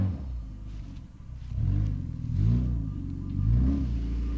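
Engine of a cheap Mazda drift car revving loudly in several rising and falling surges, close by, with no talking.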